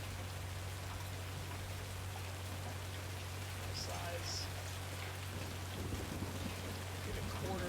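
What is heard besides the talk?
hail falling during a storm chase, from the video game Twisted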